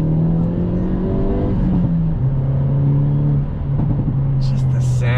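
The 2022 Hyundai Elantra N engine revs and downshifts, a loud close rumbling drone with stepping pitch changes between gears, heard from inside the car.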